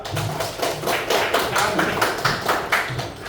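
Audience applause for group 2 in an Indonesian classroom presentation session, a steady patter of many hands clapping for about three seconds, fairly close and without talk.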